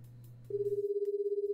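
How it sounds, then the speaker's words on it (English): Phone ringing in the Dies Irae ~Amantes Amentes~ visual novel: a steady electronic ring pulses rapidly and evenly for about a second, loud and alone, after a low sustained tone fades out. "My phone started ringing before I had the chance to finish my train of thought."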